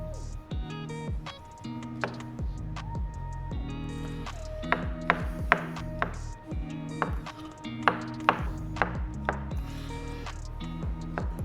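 A knife chops mushrooms on a cutting board, giving a run of sharp, close ticks and taps in a loose rhythm over a steady tonal background.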